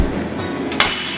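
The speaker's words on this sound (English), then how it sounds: "We can actually hit this thing with a hammer and it won't break." A hammer strikes the bulbous head of a Prince Rupert's drop of tempered glass, giving a single sharp, close impact near the end of the clip after a stretch of quiet room noise.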